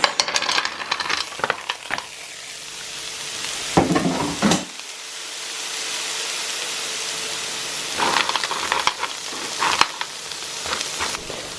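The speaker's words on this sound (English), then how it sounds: "The pan's hot enough, so we'll add our cockles." Cockles hitting a hot pan with garlic butter, a steady sizzle and frying hiss with bursts of clattering shells being stirred and moved, close and fairly loud with no talking.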